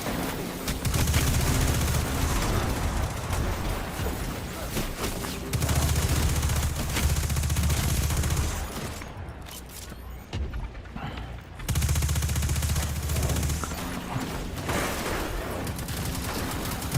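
Submachine gun fire from the video game Destiny 2 comes in repeated sustained bursts, loud and up close, with short pauses between volleys and no talk.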